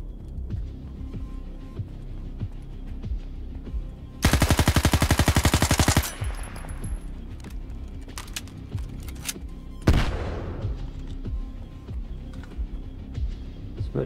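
Automatic gunfire in the video game Stalker 2 Heart of Chornobyl: a loud, rapid burst of machine-gun shots lasting about two seconds, followed later by a single sharp blast with a fading tail over quiet background ambience.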